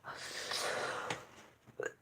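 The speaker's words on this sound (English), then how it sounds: "I had one of these weird coughs" A rough, wheezy cough, close and fairly quiet, followed by a short snorting burst of breath.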